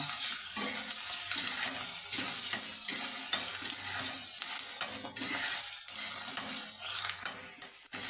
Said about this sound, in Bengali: আমি পেঁয়াজ কুচি, রসুন কুচি, আদা কুচি আর লঙ্কা কুচি দিয়ে একটু হালকা করে একটু ভেজে নেব।